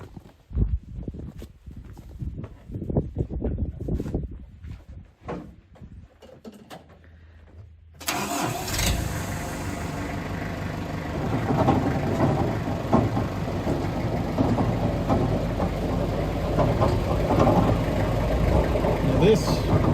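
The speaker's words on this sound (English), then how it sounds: "let me turn this thing on, show you what the windrower looks like when it's running." A Creekview Predator 78 windrower starts abruptly partway through, after quiet handling noises, then runs steadily as a loud, dense, broadband engine roar with its auger and paddles going, close by and constant to the end.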